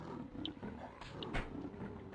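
A panther roars and growls in the survival game Survivalcraft 2, a rough, low snarling that rises in short bursts at moderate loudness over a constant background rumble.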